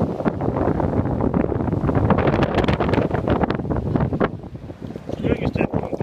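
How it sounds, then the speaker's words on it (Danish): Steady wind gusting over a small fishing boat at sea, loud blustery buffeting on the microphone throughout, dropping briefly near the end. "Det blæser lidt"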